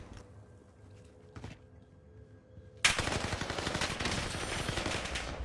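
Sustained, loud automatic machine gun fire in the video game Warzone erupts suddenly after a few quiet seconds with faint clicks, then continues densely as rapid bursts to the end.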